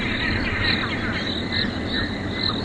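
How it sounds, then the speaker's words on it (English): Frogs croak in a steady chorus at Djuma Game Reserve, South Africa, with repeating high chirping calls pulsing over a dense background of insect and frog noise. "already the birds and the frogs and the insects are all out and about"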